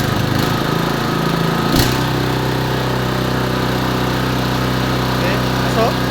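A carpet spinner machine's engine runs at full throttle as a steady, loud, droning rumble, with a sharp knock partway through and faint voices around it.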